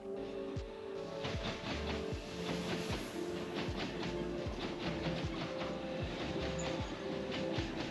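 A train rolls along the rails in Switzerland with a regular clickety-clack of wheels over track joints, steady and fairly close, with a faint high whine above.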